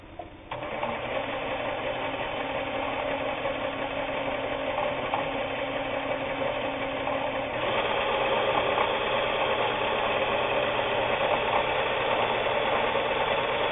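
A Japanese-made Kenmore 158.19802 sewing machine stitching a cam pattern on fabric, running as a fast continuous mechanical whir and rattle, close and steady, with a slight shift in tone partway through.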